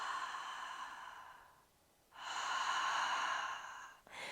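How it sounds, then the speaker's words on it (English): Long, steady breath exhalations through the mouth during a hypopressive breathing exercise, two drawn-out airy breaths separated by a short pause, close and soft with no talking. "then I'll keep going to do a full exhale after a pause"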